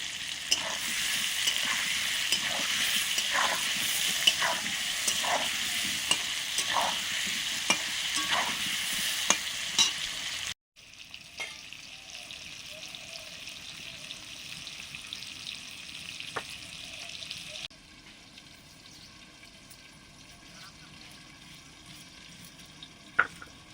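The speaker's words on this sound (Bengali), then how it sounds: "আলুটা প্রায় ভাজা হয়ে যাচ্ছে।" Potatoes fry in hot oil for a home cooked meal of luchi and meat, with a steady, close sizzle and repeated scraping strokes as they are stirred in the pan. The sizzle later drops to a quieter level, and no one speaks.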